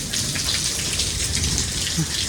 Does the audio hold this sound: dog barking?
no